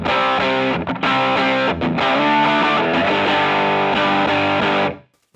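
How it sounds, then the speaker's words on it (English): Distorted electric guitar with compression switched off, run into a reverb unit on a pedalboard, playing sustained chords that sound flatter and less boosted, loud and steady, then cut off abruptly near the end with a short tail. "if I want my distortion tone to hide in the mix a little bit, all I have to do is just turn off my compression"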